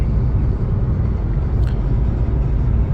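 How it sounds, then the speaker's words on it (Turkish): Fiat Egea 1.4 95ps Urban accelerating at full throttle on a flat road, a steady loud low engine drone and road rumble heard from inside the cabin. "Şu anda tipa gaz yapmışım. Arabanın hızlanması bu şekilde."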